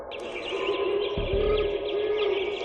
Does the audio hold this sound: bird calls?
yes